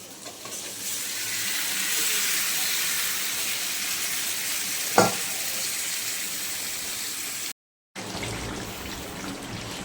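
Desi chicken meat frying with spices in a pan, a loud, dense sizzle and hiss close up, with a single sharp clank midway and a brief dropout near the end.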